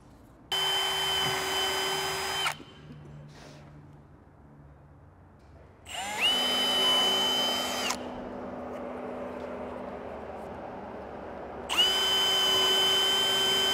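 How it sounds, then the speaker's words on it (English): A power drill drills rivet holes in a snorkel on an Isuzu D-Max in three separate bursts of about two seconds each, close and loud, with quieter pauses between them. "I'll drill all my rivet holes first"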